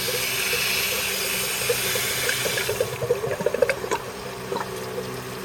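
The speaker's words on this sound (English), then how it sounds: "Now I'm going to flush this heater core with a tap off and see what happens." Water rushing through the heater core of a Mercedes 280E during a flush, a steady hissing flow that turns into irregular gurgles and sputters partway through, with no talking.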